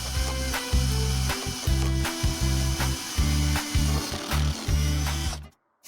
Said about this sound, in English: around the perimeter of this drum at the joint, I'll drill about 10 to 12 holes.